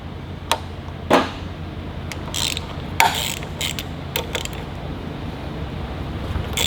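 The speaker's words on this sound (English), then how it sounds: "All right, Matt, go ahead and spin these bolts out, and that should just slide out." Bolts being spun out of a Detroit 12V71 blower with a ratcheting tool, close metallic clicking bursts and brief whirs separated by short pauses over shop background noise.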